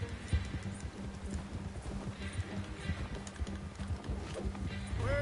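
Horse hooves clip-clop at a steady walking rhythm in the video game Red Dead Redemption 2, moderately close amid low ambient game sound, with a brief rising tone near the end.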